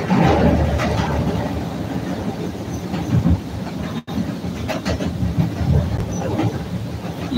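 A Chicago CTA Red Line train heads southbound near Loyola, producing a steady close rumble with rhythmic clickety-clack from the wheels and a brief dropout partway through.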